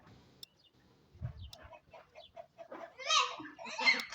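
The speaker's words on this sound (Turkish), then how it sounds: "Tavuğun sesini duyuyorsunuz mu?" A chicken clucks nearby in short bursts, mixed with faint voices and soft background noise.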